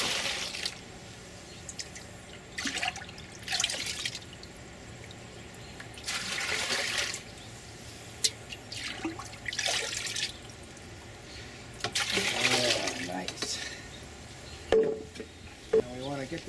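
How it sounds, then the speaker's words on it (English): Homemade natural garden tea fertilizer poured from a container onto garden beds, heard as several separate splashing, trickling pours of a few seconds each with quiet gaps between, fairly faint and close. "using garden tea to water his garden beds."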